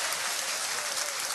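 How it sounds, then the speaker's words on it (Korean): An audience at a talk gives a dense, steady round of clapping to welcome the chairman of Atomy, filling the brief moment evenly with no voices on top. "큰 박수로 부탁드립니다."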